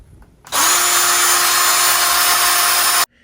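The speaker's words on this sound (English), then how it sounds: "let's try it out on the second drill" A DeWalt cordless drill on a TenHutt 9.6Ah replacement battery revs up and runs at a steady high-pitched whine for about two and a half seconds, then cuts off abruptly.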